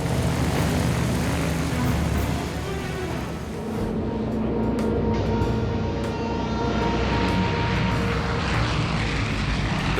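Steady, loud drone of C-46 cargo plane piston engines and propellers in flight between Stony Rapids and Uranium City, heard from inside the aircraft, continuous and unbroken throughout.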